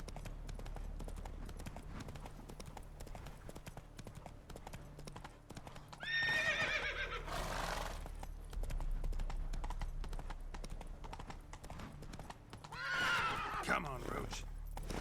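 Roach, the horse from The Witcher 3 video game, gives two loud, shrill whinnies several seconds apart over a continuous steady clip-clop of hooves, with a voice speaking briefly.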